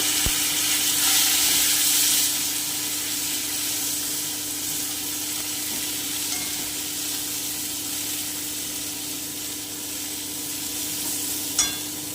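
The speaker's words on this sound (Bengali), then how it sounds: "এবারে আমি পটলগুলো দিয়ে দিচ্ছি দিয়ে আমি আঁচ কমিয়ে খুব ভালো করে একটু ভেজে নেব" Pointed gourd (potol) fries in oil in a pan over a low flame, making a steady, close sizzle with faint hiss and a few light stirring clicks, and nobody talks.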